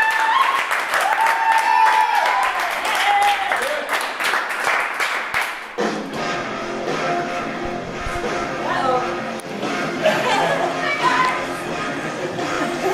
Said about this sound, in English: Ladies and gentlemen, another big round of applause for our Philly people.